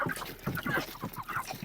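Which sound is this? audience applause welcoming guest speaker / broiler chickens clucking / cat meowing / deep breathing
broiler chickens clucking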